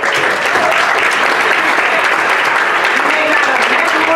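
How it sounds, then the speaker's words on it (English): Dense, loud applause from an audience at a 2018 community development summit fills the whole stretch evenly, with no voices over it. "Let's give Lauren a round of applause."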